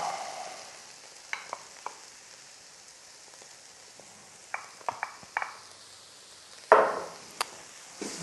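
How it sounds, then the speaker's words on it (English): Mushrooms frying in a pan while being stirred give off a soft, steady sizzle, broken by scattered sharp clicks and scrapes from the utensil, with no talking. "And then straight in with the mushrooms."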